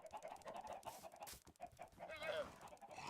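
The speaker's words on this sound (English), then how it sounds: "Yeah, chickens a little crazy." Chickens in the Minecraft video game clucking in quick, scattered bursts, a busy flock of short clucks and squawks at moderate volume, no speech over them.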